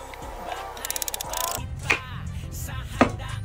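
Garlic and onion being chopped on a board for a goat stew: a quick run of sharp knife chops at first, then a few scattered cuts over background music.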